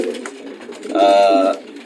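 A racing pigeon in its loft gives a single drawn-out coo lasting about half a second, close and clear amid faint background bird noise.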